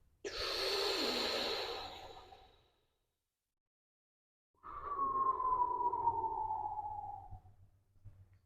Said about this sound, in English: Let's take a breath here.